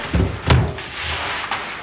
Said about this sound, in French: c'est comme ça qu'on tire les portes